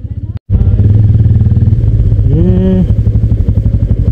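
A motorcycle on a monsoon adventure ride pushes through floodwater, its engine giving a steady, close rumble that swells briefly mid-way, with faint voices in the background.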